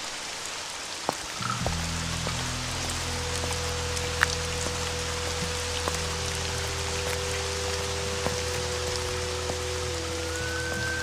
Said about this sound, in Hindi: बारिश भी तो कम हो चुकी है।